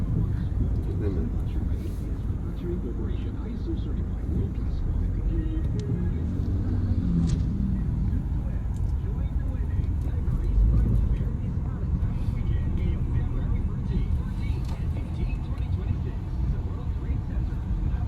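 Road traffic rumbling past in Baguio, a continuous low drone of vehicles with a louder pass midway, under ongoing conversation.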